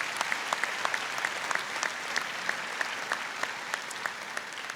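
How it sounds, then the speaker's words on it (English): Steady, moderately distant audience applause fills a graduation ceremony hall, with sharp individual claps popping out of the sustained crowd wash. "Please give them a round of applause for their help."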